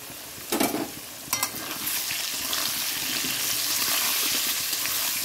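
Turmeric and vegetables fry in a pan with a steady, close sizzle that fills the whole stretch, opening with two short stirring scrapes.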